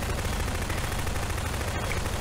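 Rapid automatic gunfire in a fort battle video game, a dense and loud unbroken rattle of shots that fills the whole stretch with constant crackling.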